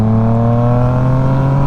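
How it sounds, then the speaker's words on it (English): A motorcycle engine held at a loud, steady high rev as the throttle is twisted wide open, a strong droning hum close by. "twist the throttle all the way"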